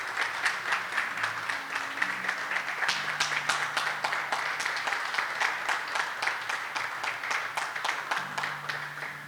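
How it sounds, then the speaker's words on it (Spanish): A congregation applauds during a church service, sustained broad clapping throughout with a low organ or keyboard chord sounding faintly beneath it. "Vamos a regalarle un fuerte aplauso a mi Señor."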